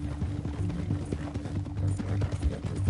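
Horse hooves clip-clop at a steady walking pace in Red Dead Redemption II, near and moderately loud in the game's ambience.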